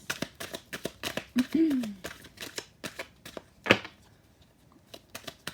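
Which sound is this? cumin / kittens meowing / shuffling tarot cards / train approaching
shuffling tarot cards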